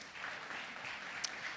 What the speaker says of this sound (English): Let's give a round of applause for Jill.